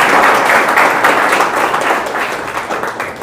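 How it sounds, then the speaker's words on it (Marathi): Loud, sustained applause from an audience at an academy success-story talk, many hands clapping together at a steady pace that fades slightly toward the end. "ह्या गोष्टीवर टाळ्या झाल्या पाहिजे."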